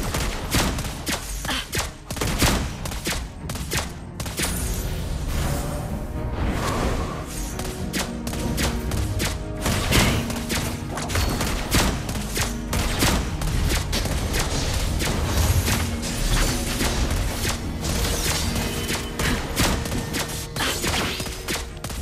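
Rapid gunfire from Lesley in a Mobile Legends ranked match, dense bursts of shots and thuds packed closely together throughout, loud and busy with game effects.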